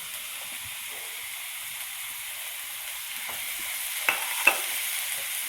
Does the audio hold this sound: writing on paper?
no